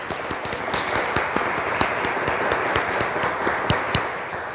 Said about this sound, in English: this applause is to welcome all into this place of love today